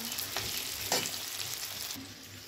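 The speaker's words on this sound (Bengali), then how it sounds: "এবার আমি এটাকে ভাজা ভাজা করব।" Mango pickle mixture with a little salt frying in a pan, a soft, fairly faint sizzle with a couple of stirring scrapes.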